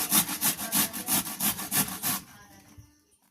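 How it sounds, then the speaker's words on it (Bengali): White radish (mooli) is rubbed on a small kitchen grater, with about nine brisk, evenly spaced rasping strokes close up. The strokes then stop and leave quiet handling sounds, with no talk. "এবারে আমি একটা গ্রেটারের সাহায্যে এটা ঘষে নেব।"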